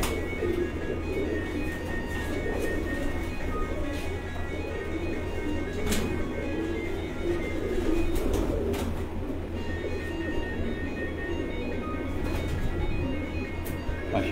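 Lal Pari breeder pigeons coo softly and steadily on a rooftop loft, a low murmuring drone that runs throughout with faint chirps and someone talking nearby.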